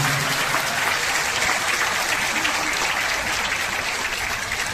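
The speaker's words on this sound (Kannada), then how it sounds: "ನಮ್ಮ ತಾಯ್ನಾಡಿಗಾಗಿ ಶ್ರಮಿಸಿದಂತಹ ಸೈನಿಕರಿಗೊಂದು ಜೋರಾದ ಚಪ್ಪಾಳೆ ತಟ್ಟುವ ಮೂಲಕ ಅಭಿನಂದನೆ ಸಲ್ಲಿಸುವಂತ ಮಾತನ್ನು ಹೇಳ್ತಾ" Audience applause for soldiers at a Basava Jayanti event held at a private school in Dubai, a loud, dense, continuous clapping from a large crowd filling the room, with faint voices mixed in.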